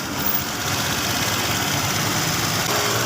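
A Honda Vario 125 motorbike engine idles close by with a steady, even mechanical hum and no talking.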